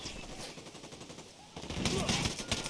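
Rapid gunfire in Ghost Recon Wildlands, an irregular burst of shots that swells louder in the second half, with a faint voice under it.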